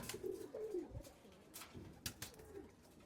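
Pigeons kept as flyers and breeders coo softly in a few short throaty phrases nearby, with light rustling and faint background noise.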